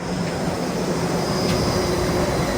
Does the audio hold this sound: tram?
yes